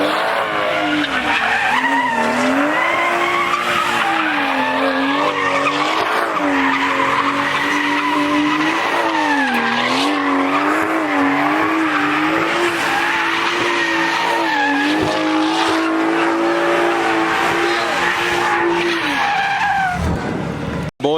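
A car, an M3, screams through burnouts and drifts at a street takeover, tires squealing loudly and continuously with the engine revving and wavering in pitch for about twenty seconds, close and unbroken, cutting off abruptly at the end.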